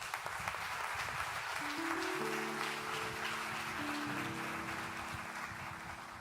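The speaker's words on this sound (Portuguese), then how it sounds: "Aplauda o Senhor." A church congregation applauds at a theological conference, a steady, faint wash of many hands clapping for several seconds with sustained keyboard or organ tones held underneath.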